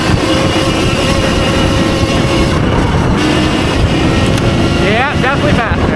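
An upgraded Surron electric dirt bike on stock tuning runs at full throttle: a loud, steady rush of wind and motor whine fills the whole stretch, and a brief voice rises over it near the end.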